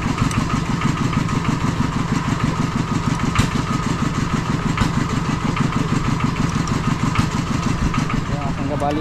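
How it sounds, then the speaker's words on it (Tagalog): A boat's engine runs at a steady idle with a fast, regular chugging beat, close and loud, while a person talks over it on a river used for fishing. "umandar na yung makina natin."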